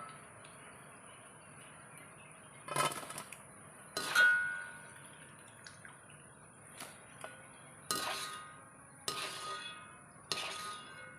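Utensil scraping and clinking against a pan while fried mango pieces are lifted out, several separate metallic taps and scrapes spaced across the clip, close and moderately loud with a steady faint background hiss.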